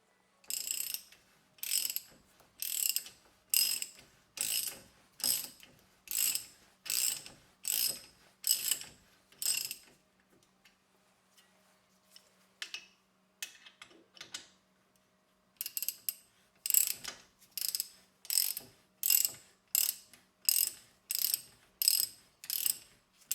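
A ratchet wrench tightens bolts during a rear brake job on a Porsche 996 Turbo, making two long runs of evenly spaced, crisp clicking strokes separated by a quieter pause with faint handling noises.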